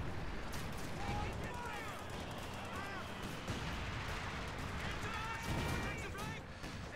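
Small arms fire and mortar shelling crackle and thump through a Company of Heroes 2 match, a steady dense battle din with scattered shots, while commentators talk over it throughout.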